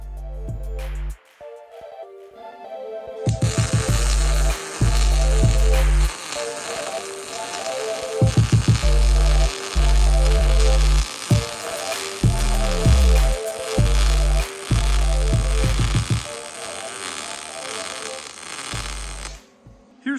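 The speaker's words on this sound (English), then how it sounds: "and then I will try to lay the weld." A Vulcan MIG Max 215 welder lays a bead on a practice cube with a steady crackling, sizzling buzz that runs for about sixteen seconds after a short quiet start, close and loud.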